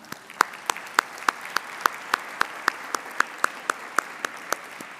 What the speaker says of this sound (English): I think we have to give right now a big round of applause.